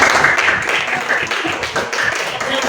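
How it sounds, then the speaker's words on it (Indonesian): A classroom of junior high school students claps for a classmate, a dense, steady patter of many hands close by that carries through without a break. "Tepuk tangan buat Bumi Samira."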